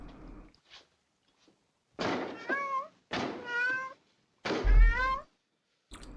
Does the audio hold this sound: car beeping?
no